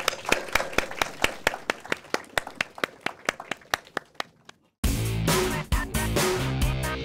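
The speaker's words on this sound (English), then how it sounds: "Please give them a round of applause." An audience claps for a panel at a short-film session, first as sparse, distinct hand claps in a steady rhythm that fade out, then a burst of loud, dense music.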